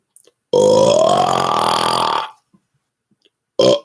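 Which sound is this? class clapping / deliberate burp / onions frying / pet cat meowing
deliberate burp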